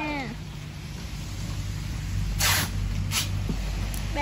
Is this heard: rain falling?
yes